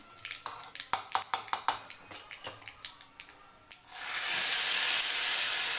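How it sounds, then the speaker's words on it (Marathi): Hot mustard seeds and curry leaves in oil poured into chutney, erupting into a loud, steady sizzle after a run of sharp spattering pops from the tempering. "तर छान तडका बसलेला आहे आपण चटणीमध्ये टाकून घेते"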